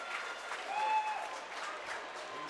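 Stadium crowd at a 2023 rugby league match involving Toulouse Olympique, reacting to a conversion kick taken from the right touchline; a broad, steady roar and clapping wash at moderate distance, swelling briefly with a whistle-like tone.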